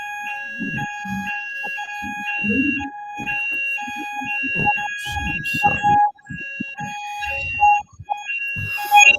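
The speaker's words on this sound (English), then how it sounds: "there's a fire alarm" A building fire alarm sounds during an online conference session, a steady high-pitched electronic tone pulsing in repeated on-off bursts, heard under a person talking with brief gaps and clicks.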